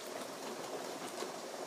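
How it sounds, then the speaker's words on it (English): Heavy rain falling hard outside, a steady, even wash of noise that stays faint and distant with no talk over it. "Sorry about the noise in the background. It's like raining really hard."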